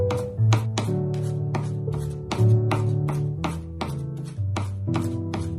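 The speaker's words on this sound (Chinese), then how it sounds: "大蒜我们要多切一点，然后再改刀剁成蒜末" A knife mincing garlic on a chopping board makes a brisk run of about fourteen sharp, close chops in an even rhythm, with soft music in the background.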